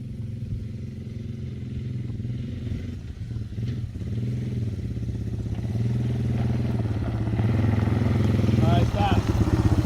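A Yamaha Timberwolf four-wheeler engine runs steadily during a first driving lesson, its rumble building and growing louder toward the end while people talk over it.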